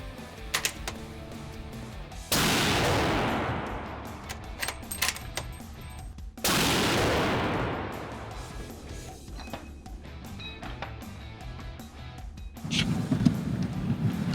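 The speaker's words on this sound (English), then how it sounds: "The first shots out of a new rifle, I can't really complain about that." Two loud, sharp shots from a new Aero Solus lightweight hunting rifle ring out about four seconds apart, each followed by a long rolling echo, outdoors with no talking.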